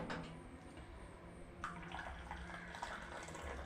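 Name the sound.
hot milk being poured into coffee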